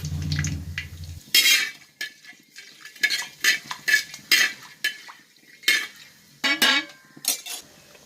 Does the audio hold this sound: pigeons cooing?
no